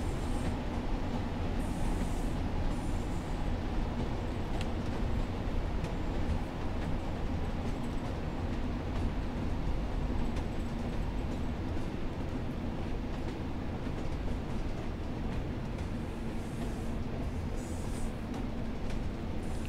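A Class 142 Pacer diesel railbus in Train Sim World 4 brakes on its approach, giving a steady close rumble and rattle from the running gear. The level holds even throughout, with no talk.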